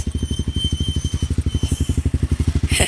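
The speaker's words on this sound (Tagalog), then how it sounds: "Ay si Kuya, tira yung motor ni Kuya" A motorcycle engine chugs on a rough road in a fast, even pulsing beat, close and steady, with a brief clatter near the end.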